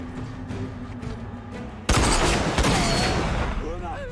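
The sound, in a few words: sniper rifle gunfire in the video game RAGE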